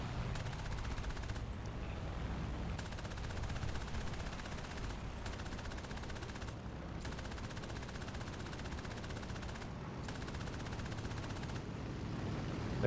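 Sustained bursts of aircraft machine gun fire from a plane in War Thunder, long rapid rattling volleys broken by short pauses, loud and close over steady engine drone, with no talking.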